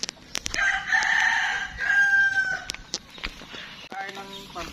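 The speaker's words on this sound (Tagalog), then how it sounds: "Pagpakain kami ng manok." A rooster crows loudly and close by on a rural farm, a drawn-out call followed by another crow, amid clucking chickens and sharp clattering sounds.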